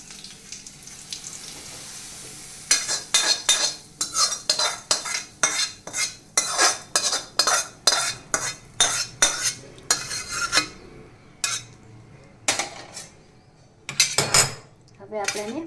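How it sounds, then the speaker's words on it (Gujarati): A spoon stirs hot tempering of curry leaves and asafoetida into a sev khamni mixture, giving a quick run of sharp metallic clinks and scrapes against a bowl, close and fairly loud, then a few scattered taps at the end. "હવે આપણે એને પ્રોપર મિક્સ કરી દઈશું"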